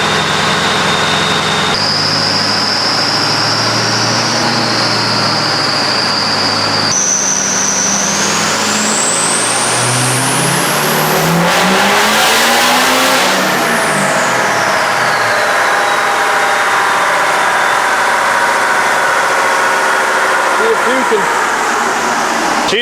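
A 6.0L Powerstroke diesel truck with blown head gaskets, pushing coolant during a dyno pull, revs loud and close, its engine pitch climbing steadily, dropping at a gear change, then rising again to a high scream before falling away.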